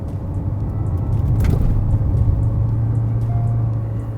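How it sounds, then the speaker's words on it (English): Diesel murmur from a 2020 Hyundai Creta 1.5 diesel with manual gearbox, revving toward about 4000 RPM: a steady low engine hum with a faint rise in pitch, heard alone without talk. "there is of course a little bit of diesel murmur"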